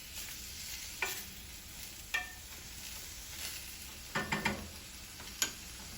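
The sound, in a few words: ground meat and onion sauteing in a pan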